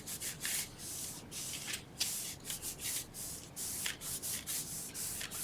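Glued paper flaps on a handmade spice packet are folded over and burnished, giving a steady close rubbing and scraping texture with repeated strokes and no talk.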